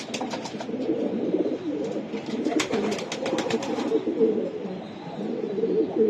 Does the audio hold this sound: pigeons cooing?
yes